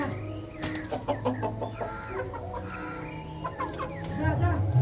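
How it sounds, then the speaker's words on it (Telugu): Several chickens cluck and murmur nearby in short, overlapping calls, with a low background hum growing louder toward the end. "ఇవి మా ఇంట్లో పెరుగుతున్న కోళ్ళు"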